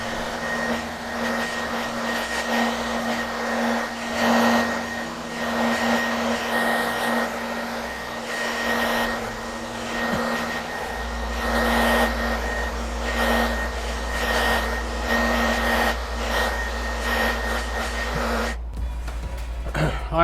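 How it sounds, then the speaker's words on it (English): A blow dryer drying a coat of Venetian plaster on a wall, a steady close whirring hum with a constant whine that runs throughout, shifting slightly in tone partway, before a brief clatter at the end. "We're gonna help out a little bit with our blow dryer."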